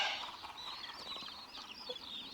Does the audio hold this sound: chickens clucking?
yes